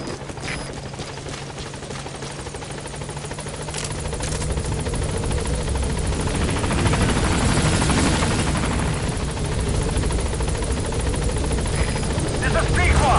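A support helicopter in Metal Gear Solid V draws closer to the landing zone, its rotor roar swelling from a steady drone to a loud, chopping wash, with a voice speaking over the noise.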